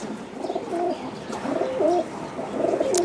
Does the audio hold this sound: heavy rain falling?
no